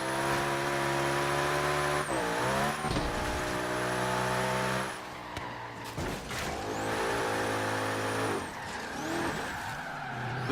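Forza Horizon 3 race car engine screams at high revs, dipping and climbing through gear changes while tires squeal in drifts, loud and close throughout.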